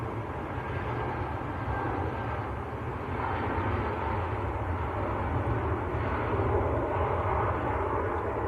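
Lufthansa airliner in Star Alliance livery taxiing at Manchester Airport, a steady low engine rumble and whine heard from some distance, holding at an even level throughout.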